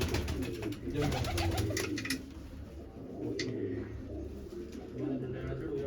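Large pigeons coo in a loft in repeated soft, throaty bursts, with some sharp ticking sounds and someone talking nearby.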